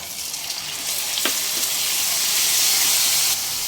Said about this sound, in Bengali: এবার পেঁয়াজের কাঁচা গন্ধটা চলে যাওয়া পর্যন্ত একটু কষিয়ে নেব মিডিয়াম ফ্লেমে